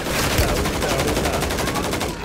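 Rapid automatic gunfire rattles in a continuous burst in Call of Duty Warzone 3 on the Urzikstan map. The shots are loud and close, with only faint traces of voices underneath.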